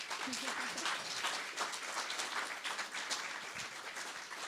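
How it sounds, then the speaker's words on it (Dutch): Applause from a lunchtime lecture audience thanking speaker Ron Fresen, a steady wash of clapping across the whole stretch with a few voices rising briefly underneath. "ik wil graag een heel groot applaus voor meneer Vrezen"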